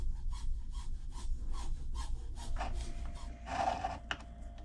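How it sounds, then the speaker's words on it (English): A hand drill turned by hand drills holes while mounting a visual water gauge side glass, giving a close, steady run of rhythmic rasping strokes with no talk. "Why are you using hand drill?"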